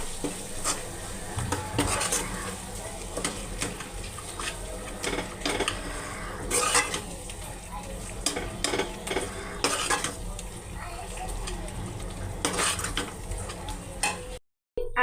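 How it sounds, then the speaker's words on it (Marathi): Capsicum masala seasoned with Kashmiri red chili powder sautés in a pan under a constant sizzle, with repeated scraping and clinking of a spoon against the metal over about fifteen seconds, close and without speech. "तर ह्याला आता मी चांगलं परतून घेते."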